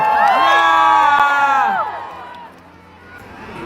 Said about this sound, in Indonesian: Tepuk tangan paling meriah untuk Aisyah Mendio.